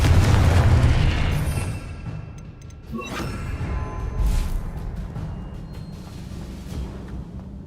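Confringo explosive spell cast in the Hogwarts Legacy game: a heavy boom bursts at the start and fades, followed by smaller pops and crackling impacts over a lingering rumble.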